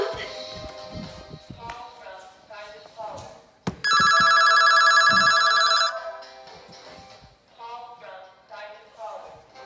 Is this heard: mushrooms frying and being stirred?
no